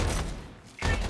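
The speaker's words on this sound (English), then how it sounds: "Grenade. Everyone, watch out. Barrage." Two heavy bursts of grenade barrage explosions in the shooter game Strinova, loud and close, split by a short quieter gap.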